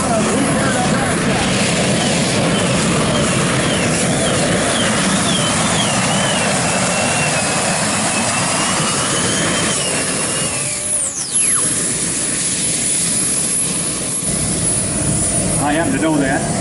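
A gas turbine engine in a truck pulls at an outlaw truck and tractor pull in Grand Island, Nebraska, a loud sustained jet-like roar with a rising whistle, while an announcer talks over it.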